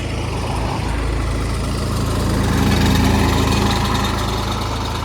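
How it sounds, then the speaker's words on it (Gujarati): A small tractor engine runs steadily nearby, a loud, even chugging drone with a low throb and no pauses. "નાનું નાનું ટ્રેક્ટર"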